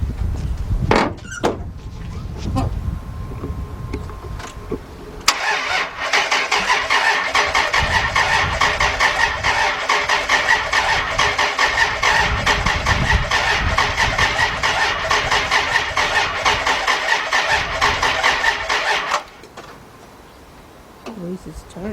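A 1999 Dodge Dakota Sport with a freshly replaced 3.9 engine cranks and then runs, a loud, steady mechanical drone holding for about fourteen seconds before cutting off, preceded by a few knocks and clicks up close.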